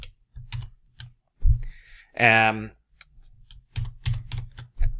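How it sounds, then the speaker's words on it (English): Typing on a computer keyboard during a Dynamics 365 Business Central software demo. Quick irregular bursts of close key clicks come and go, with a short spoken word in the middle. "I can start typing it"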